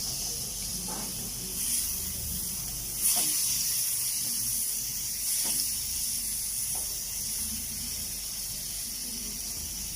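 Onions hitting a pan of melted butter over low heat give a steady, soft sizzling hiss that runs throughout, with a few faint clinks of utensils and no talking.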